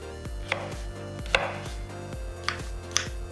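A knife cuts through zucchini on a cutting board, with four sharp, separate chops spaced about a second apart. They sound close and clear against a steady low kitchen hum, and no one speaks.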